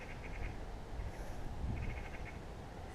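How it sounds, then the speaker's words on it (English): Small birds chirp and tweet in short repeated bursts beside a frozen pond, faint and somewhat distant over a low outdoor rumble, with no talking. "Birds tweeting over there, chirruping away."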